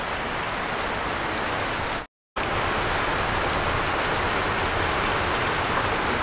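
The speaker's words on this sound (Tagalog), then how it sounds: "Lakas na ng ulan, oh." Heavy rain pours down in a dense, unbroken hiss that cuts out abruptly for a split second, then resumes just as loud.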